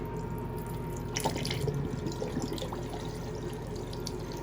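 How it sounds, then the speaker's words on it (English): Water siphoning out of a turtle tank through a valve runs in a steady, slow trickling stream with soft gurgles and drips, close by and continuous, with no voices. "now the water is siphoning out"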